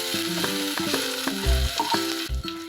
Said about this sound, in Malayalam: ഇനി ഇതിലേക്ക് പച്ചമുളക് ചെറുതായി അരിഞ്ഞതും കറിവേപ്പിലയും കൂടി ചേർത്ത് ഇളക്കി കൊടുക്കാം.